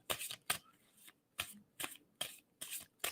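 Close, quiet hand shuffling of tarot cards before a reading: brief papery bursts of riffled cards at irregular half-second intervals, clear and alone.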